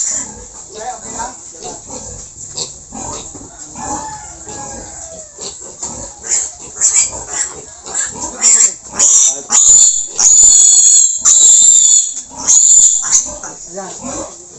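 Piglets of a native pig litter squeal loudly and repeatedly while being caught on a farm, sharp piercing shrieks rising in intensity toward the end, with people talking in between and a rooster faintly nearby.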